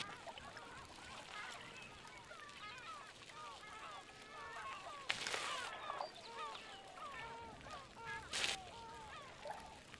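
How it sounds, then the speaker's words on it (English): Birds call in the game Purpose 1951, repeated honking, goose-like cries overlapping across a quiet outdoor scene, fairly faint and steady, with brief louder noise bursts. "I'm sure those are meant to be birds, but it sounds like somebody yelling"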